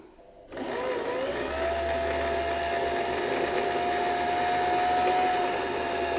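Treadle sewing machine stitching steadily, a continuous close whirring hum with a sustained tone that starts abruptly after a brief quiet moment and runs evenly to the end without talk.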